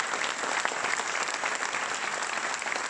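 An audience at a political rally meeting in Nantes claps warmly and continuously, a steady wash of applause at moderate level with no speech over it.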